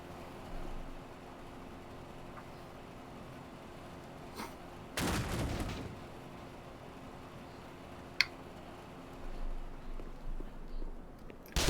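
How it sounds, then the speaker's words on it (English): A single muffled explosion bursts midway through a quiet stretch of Black Mesa gameplay, with faint clicks and rumbles before and after. "Where's the kaboom? Oh, yeah, there it is."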